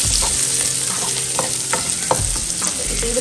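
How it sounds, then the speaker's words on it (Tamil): Onions sauté with salt in a pan, giving a steady close sizzle broken by intermittent scraping stirs and clinks of the utensil against the pan, with no one speaking. "வெங்காயம் வதங்கிறதுக்காக நம்ம சால்ட் போடலாம். சால்ட் போடும்போது சீக்கிரமாக வதங்க ஆரம்பிக்கும்."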